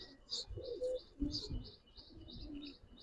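A brown pigeon coos softly and close by in a rooftop loft, low repeated coos mixed with faint chirps from other birds, quiet overall.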